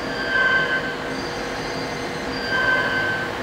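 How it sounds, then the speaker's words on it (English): A Krieghoff factory machine cuts the slot in a classic side-by-side rifle: a steady, dense mechanical roar carrying thin, high whining tones that swell twice, near and loud, with no talking. "So it cuts the slot for the open side."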